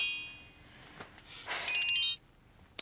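A mobile phone ringtone chirps in a short electronic melody, fairly faint in a quiet room, then cuts off abruptly as it is answered.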